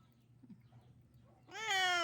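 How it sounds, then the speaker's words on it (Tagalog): After a quiet, low hum, a cat lets out a single loud, close meow near the end. "Gutom na talaga siya. Meow meow ng meow meow."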